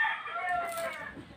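A chicken pecking at a banana gives a drawn-out, nasal cluck-like call, close and fairly loud, lasting just over a second.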